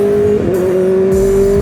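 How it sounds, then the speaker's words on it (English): Loud exhaust roar of a 2026 Kawasaki ZX6R motorcycle, a sustained high-pitched engine drone close and dominant, holding steady with slight pitch shifts and no voices. "This exhaust is just so loud"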